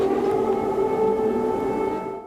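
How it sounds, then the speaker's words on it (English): Air raid sirens in Ukraine wail steadily in frosty morning air, a sustained mournful tone hanging in open air, fading slightly at the end. "Air raid sirens wail in the frosty morning air."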